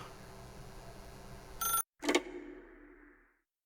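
A telephone rings in The Stanley Parable video game. One brief loud ring is followed by an abrupt cut to silence, then a second short burst that fades out into quiet.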